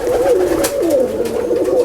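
A domestic pigeon coos close by, a few soft, rolling, wavering low calls in quick succession with faint room noise behind.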